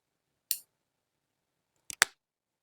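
Scissors snip through crochet yarn while an amigurumi nativity figure is finished: one crisp cut, a pause, then a quick double snip followed by another cut, close and clear against silence.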